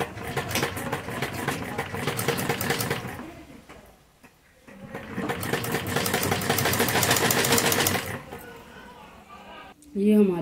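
A sewing machine stitches fabric onto a kurti neckline in rapid, buzzing runs, a long burst, a brief pause, then another long burst, close and fairly loud, ending with a short sound at the finish.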